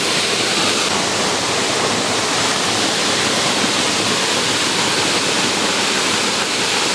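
A waterfall in the Ozark National Forest of Arkansas rushes with a loud, dense, unbroken roar close by, steady throughout with no voices.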